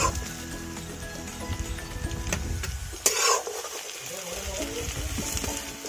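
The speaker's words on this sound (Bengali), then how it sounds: "কেটে রাখা আলুগুলো আমি প্রথমে ভেজে নেব।" Cut potatoes fry in oil in a pan for a fish curry, giving a steady close sizzle with intermittent stirring scrapes and clatter, one sharper burst midway.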